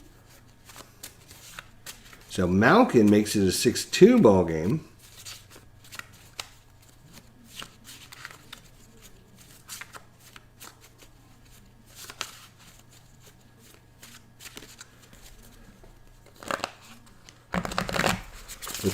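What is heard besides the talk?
shuffling a deck of cards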